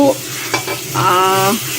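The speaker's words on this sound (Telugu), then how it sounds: "ఆయిల్ వేడెక్కిన తర్వాత దాంట్లోనే ఇది వేసేసుకుంది మొత్తము" A mixture of dried fish, tomato, onion, salt, turmeric and chili powder sizzles and crackles in hot oil, close and steady, with brief stirring sounds and a faint tonal squeak over the frying.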